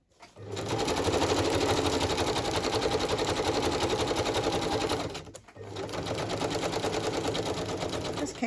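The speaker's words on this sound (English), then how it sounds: "Hopefully it doesn't upset my sewing machine." A sewing machine running a zigzag stitch over glued paper, a loud close mechanical whir that drones steadily, stops briefly near the five-second mark, then resumes.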